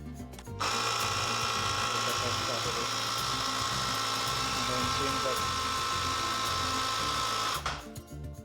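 A handy tyre inflator runs steadily for several seconds with a constant whirring motor hum and blowing air, close by, starting and stopping abruptly.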